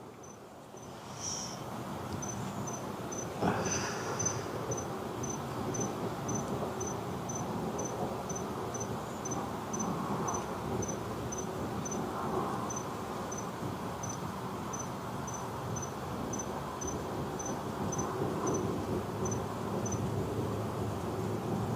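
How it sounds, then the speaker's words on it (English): A single cricket chirps in a steady, evenly spaced rhythm against a soft outdoor night hum, fairly faint and continuous. "You hear the one cricket I have?"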